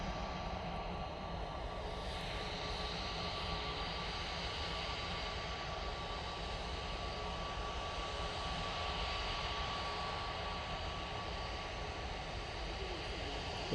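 A Jet2 airliner in the .com livery departing Manchester Airport for Funchal, its engines producing a continuous, loud, broadband roar that holds steady throughout.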